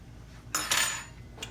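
A metal fork clinks against a dish of cornbread dressing: two quick, bright taps close together and then a fainter third tap, set against a quiet kitchen.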